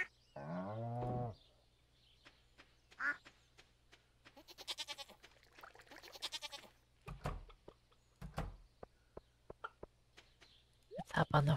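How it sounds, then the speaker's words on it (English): Cow mooing in the farming video game Stardew Valley, one long low moo at the start followed by softer animal calls and game sounds, with a person talking in between. "And I think it's just the cow today."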